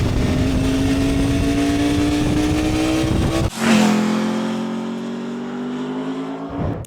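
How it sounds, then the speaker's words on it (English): A Norton Manx R V4 superbike engine revs hard with a steady rising drone, drops sharply as the throttle closes, then climbs again with a strong harmonic whine before cutting off near the end. "That V4 engine sounds mental"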